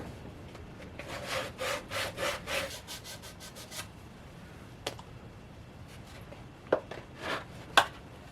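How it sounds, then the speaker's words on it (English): Rhythmic back-and-forth sanding strokes rub against the inside of a 3D printed plastic boot part, a quick burst of close scratchy passes followed by a few isolated scrapes and taps, no speech. "And then I want to sand the inside here so I have fresh plastic to fresh plastic."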